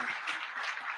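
Faint, distant wash of audience clapping for a famous music director seated in the crowd at a conversation event, a steady, soft patter lasting about a second.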